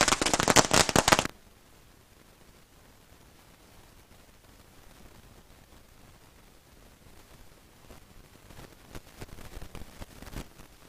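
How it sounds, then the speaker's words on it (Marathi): Firecrackers and fireworks celebrate a cricket league final win: a dense, loud burst of rapid crackling bangs opens, then fades to quiet hiss before scattered crackles and pops return near the end. "फटाक्यांची आतिषबाजी होत असताना आपल्याला पाहायला मिळते."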